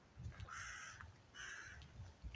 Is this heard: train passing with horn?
no